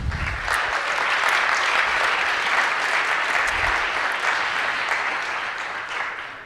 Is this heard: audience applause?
yes